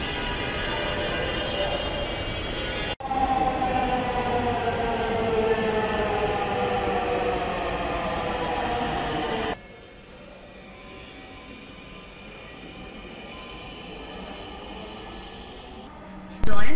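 A Dhaka metro rail train bound for Motijheel pulls in at platform 1 with a loud, pitched electric motor whine that glides in tone, then cuts off abruptly to a quieter station hum.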